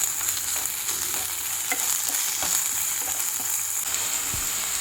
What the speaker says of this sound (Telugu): అల్లం వెల్లుల్లి పేస్ట్ కూడా కొంచెం వేగేదాకా ఫ్రై చేసుకుందాం